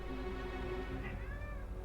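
Close by, a pet cat gives a drawn-out meow and then a second, higher wavering cry over a constant low hum, with no one speaking.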